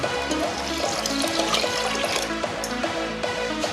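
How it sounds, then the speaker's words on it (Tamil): Water pours steadily into a metal pressure cooker, a continuous splashing gush over a rhythmic background beat, with no talking. "இந்த குக்கரில் போட்டு"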